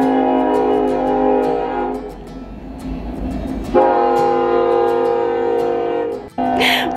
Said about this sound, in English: That was a really short train